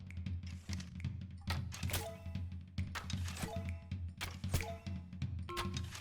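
Arrows thud into a ranged training target in the PC game Swords and Souls, a run of sharp, moderately loud game hits and thunks spread over several seconds against a steady musical background.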